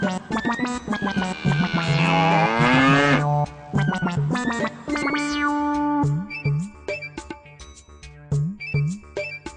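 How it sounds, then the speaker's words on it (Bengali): A bull bellows in a Bengali cartoon, with loud, drawn-out, sweeping moos followed by a run of shorter, punchy grunts and effects in an animated soundtrack. "2 মাইল দূরে আমি একটা ষাঁড়ের আওয়াজ শুনতে পাচ্ছি"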